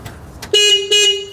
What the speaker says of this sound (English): Now let's see if the horn works with that in there.